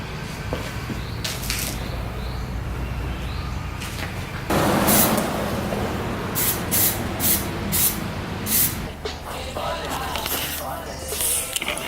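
Gloss plastic dip sprays from an aerosol can onto KTM 390 Duke motorcycle wheels in bursts of close, loud hissing, broken by short pauses and soft handling clatter.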